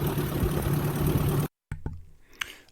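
A flooded 1958 Ford tractor engine runs loud and steady with a low rumble, cuts out abruptly for a moment, then returns rougher and weaker with a few uneven pops.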